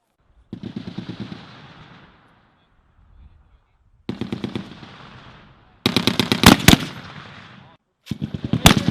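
M2 heavy machine gun firing on a live-fire range: several loud bursts of rapid automatic fire, each a rhythmic string of close, booming shots with echoing tails, separated by short pauses.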